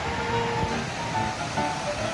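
Steady, broadband wash of river water flowing at an outdoor riverside hangout, a continuous rushing hiss with no breaks, fairly close and even in level, no voices.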